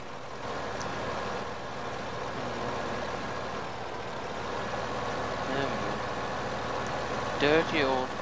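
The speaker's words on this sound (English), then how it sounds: "Dirty old Dutch tractor going up and down." An old Dutch tractor in Farming Simulator 15 runs with a steady low engine drone, moderately loud and unbroken, while a voice talks over it.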